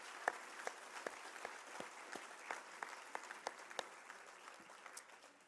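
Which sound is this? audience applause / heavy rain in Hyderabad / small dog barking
audience applause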